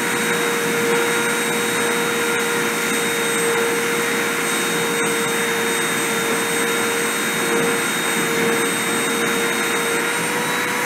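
Deposition machine running with its spindle on: a steady, loud, even whir with a constant hum, broken by a few faint ticks.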